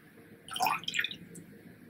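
Ink from four cartridges, held in a small test tube, is tipped into a water container holding a rose, giving a brief splash and dripping trickle around the middle of an otherwise quiet moment.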